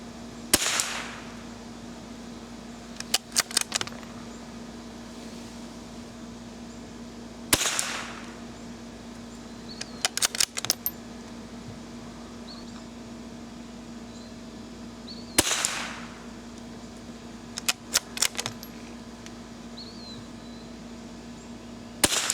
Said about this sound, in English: last shot with the Standard Plus out of the XT22